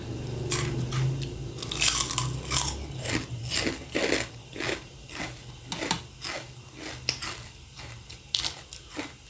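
Crunchy bites and wet chewing of spicy Lao-style white rice-noodle salad (tam mee), close and steady, with repeated crisp chomps throughout and no talking.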